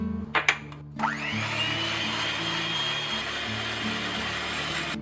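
An electric mixer beats egg whites with sugar at medium speed for a pistachio cake, starting with a few clicks, then a steady close whirring drone holding constant, no talking.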